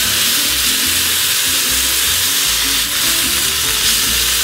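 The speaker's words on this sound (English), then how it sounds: "All we're really doing with these tomatoes is just kind of heating them through a little bit." Tomatoes with a little salt stir-frying in a wok for a tomato and egg dish: a loud, continuous close sizzle with a low hum of the stove underneath, no voices.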